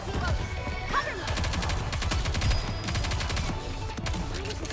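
Rapid gunfire rattles in the NIKKE game, dense volleys of shots cracking in quick bursts with clatter and impacts throughout, layered over battle noise.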